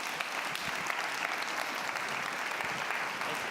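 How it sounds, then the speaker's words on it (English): Dense, sustained applause fills a large convention hall for Senator Tillis at a foundation gathering, an even wash of many hands clapping at once. "another round of applause for Senator Tillis"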